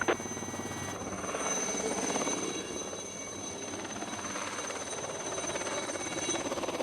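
A helicopter flies overhead during a police operation, its steady rotor thrum and engine whine continuous and fairly close throughout, with no talking.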